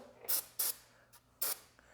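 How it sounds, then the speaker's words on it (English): Three short, sharp hisses of aerosol lubricant sprayed onto a garage door bearing, close by, separated by brief pauses, with a faint click near the end. "Again, one quick spray on the bearing."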